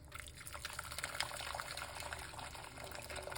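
Water poured into a container for a cornmeal drink, a soft continuous trickling fill heard up close and alone.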